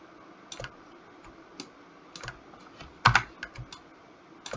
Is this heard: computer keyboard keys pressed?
yes